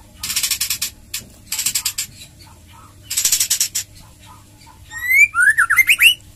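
A male white-rumped shama (murai batu) kept for breeding sings in repeated bursts of rapid, raspy trills, then ends with a run of clear, rising whistled notes, loud and close.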